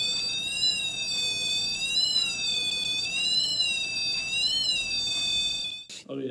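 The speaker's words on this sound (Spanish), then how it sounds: "emite un pitido totalmente disonante y sin armonía" A REMPOT paranormal detector emits a steady electronic tone with wavering pitch, continuous for several seconds, harsh, dissonant and buzzy with many overtones, then cuts off abruptly.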